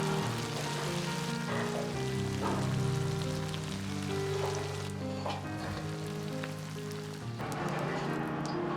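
Tofu fries over medium heat in oil in a wok, hissing and crackling in a dense, steady sizzle that holds close and loud without pause.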